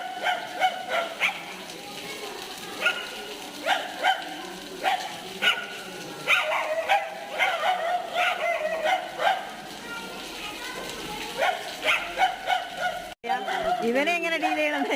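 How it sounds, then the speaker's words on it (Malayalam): Several dogs bark nonstop at a strange dog that has entered their school compound, with sharp overlapping yaps and whimpers repeating close by, and a voice talking over them. "അതൊന്നൊന്നര കുരയാണ്."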